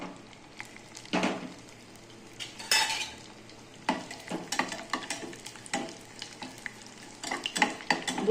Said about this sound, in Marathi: बोंबीलला पण चांगले तळू